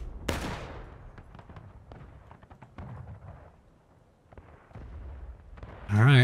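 Distant booms of cannon fire in a large-scale war video game battle, several scattered blasts with rumbling tails, ending with a louder rushing burst.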